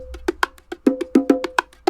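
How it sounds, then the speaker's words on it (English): A bongo loop in an FL Studio beat plays alone, a quick run of bright hand-drum hits in a syncopated pattern with alternating higher and lower tones, close and clear. "I have a bongo loop."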